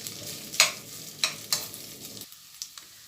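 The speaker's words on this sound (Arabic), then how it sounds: "هفضل اشوحه يا حبايبي واقلب فيه من الوقت للتاني كده لحد ما يتشمع معايا" Rice sautéing in ghee in a pan, with a soft continuous sizzle broken by several sharp scraping stirs at irregular intervals, close and alone before the frying fades out.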